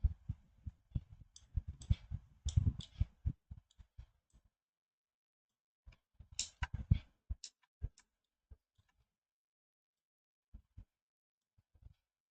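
Mouse clicks while adding vertices in Blender 3D software: a burst of quick, sharp, close clicks in irregular rhythm, a pause, another cluster, then a few scattered single clicks, with no talking.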